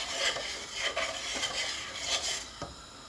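Carrot and rice pudding (kheer) boiling in a metal pot as a spoon stirs it, with steady scraping and clinking strokes over a constant bubbling simmer, heard close up with no talking.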